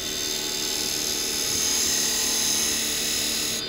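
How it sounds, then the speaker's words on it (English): A carbide woodturning chisel cuts a bowl on a spinning lathe, giving a steady, loud, close-up whirring hiss that holds unbroken for the whole stretch. "Give the chisel a chance to cut."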